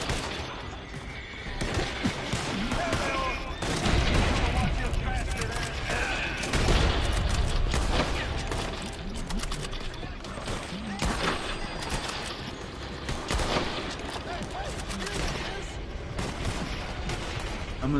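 Gunfire in a PS4 shooter game, a long chaotic stretch of rapid bursts, booms and crashes overlapping continuously at steady loudness, with a voice occasionally talking over the action.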